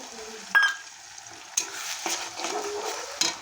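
Spices fry on top of fried onions for a mutton curry, sizzling steadily while a spoon scrapes and stirs through them in a few sharp strokes close up.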